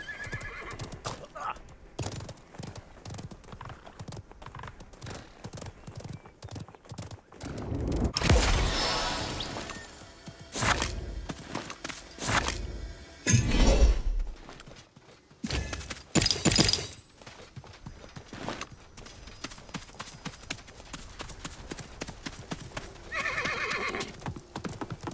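Horse mount in Realm Royale on Xbox One, rapid steady clip-clop hoofbeats with loud neighs and whinnies bursting out midway, close and clear, with bits of game noise around them.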